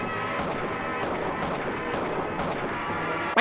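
Gunfire from bots fighting in a PUBG or Free Fire battle, heard as a steady dense rumble of shots with a sharp louder burst at the very end.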